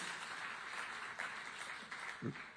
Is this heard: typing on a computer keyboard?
no